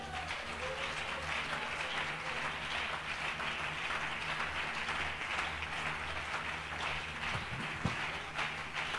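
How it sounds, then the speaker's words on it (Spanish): Congregation applauding during a church evangelism service, steady dense clapping and crowd noise filling the space throughout, with a low hum underneath. "¿Alguien puede darle un aplauso a Jesús?"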